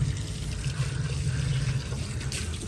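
Water from a hose pours steadily onto date palm seedlings and flowering plants, a continuous close splashing rush with no talking.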